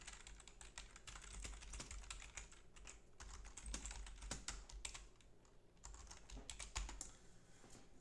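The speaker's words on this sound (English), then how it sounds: "you guys can see how bad I am at typing" Fingers typing on a computer keyboard, a steady run of close, irregular clicking keystrokes with brief pauses, no voices.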